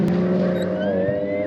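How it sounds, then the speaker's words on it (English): Jet skis pass close by an anchored fishing boat on open water, a steady loud engine drone that climbs slightly in pitch as they run past, with no talking. "those jet skis had to come within about 20 foot of me"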